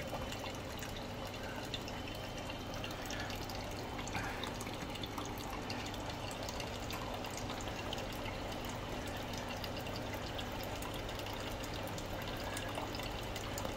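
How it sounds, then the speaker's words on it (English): Wort drains steadily from a mash tun during a turbid-mash lambic brew, a continuous close trickle and splash of liquid with faint drips running throughout, with no voices. "This is the speed at which I'm draining the mash tun."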